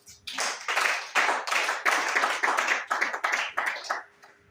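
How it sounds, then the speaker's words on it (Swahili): A church congregation claps hands in praise of Jesus, a close, dense run of rhythmic clapping in repeated bursts that fades out at the end. "Pigia Yesu makofi."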